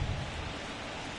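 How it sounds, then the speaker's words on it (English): Steady, dense rain hiss in a baseball game from MLB The Show 24, a constant wash of noise with no talking or other sounds standing out. "This rain is not letting up."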